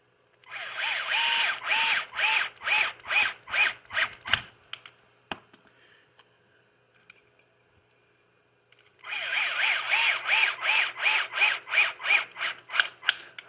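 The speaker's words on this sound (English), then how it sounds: "I would say if you do use a hand drill," A handheld drill drives screws into plastic while assembling an RC car differential, whirring in repeated short pulses, a pause of quiet clicks, then another run of rhythmic bursts, close and loud.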